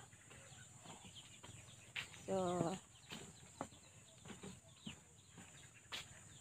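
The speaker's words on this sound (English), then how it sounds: "Look at the chicken." Chicken in a garden giving a short run of clucks in the middle, fairly close, over faint outdoor background, with a brief spoken word nearby.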